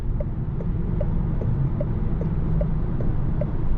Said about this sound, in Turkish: Gerçekten bek beklediğimden daha az bir rüzgar sesi var içeride.